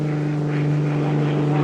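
Propeller cargo plane engine over a drop zone, a loud steady droning hum with strong low tones, continuous and close.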